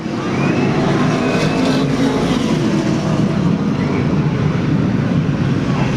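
Pro stock race cars at Riverside Park Speedway in 1996 roar past at the finish line, a loud, steady blur of engine noise with a faint rising whine, sustained throughout without clear breaks.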